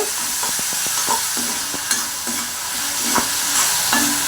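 Chilli chicken sauce with vinegar and tomato ketchup being stirred in a hot pan, a steady sizzle of frying under repeated scraping spoon strokes against the metal, close and continuous.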